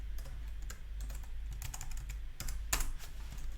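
Rapid keystrokes on a computer keyboard entering Korean text and hanja, a steady run of close, crisp clicks with a few louder taps, alone over a low background hum.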